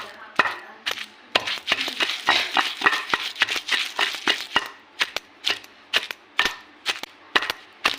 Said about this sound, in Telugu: ఫస్ట్ చింతకాయ తొక్కు దంచుకోవాలంట